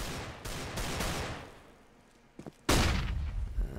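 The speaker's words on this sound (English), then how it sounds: "It's a flashbang, and Flamey's going through the smoke." Flashbang grenade and gunfire in a Counter-Strike match: sharp bursts and bangs cut through a quieter lull, ending with a loud, abrupt detonation, all without talk.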